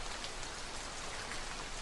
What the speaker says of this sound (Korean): 빗소리가 잔뜩 들리고